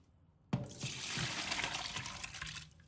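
Running tap water pours steadily over pork liver being washed in a sink, starting suddenly after a quiet moment and continuing as a close, even gush with slight splashing.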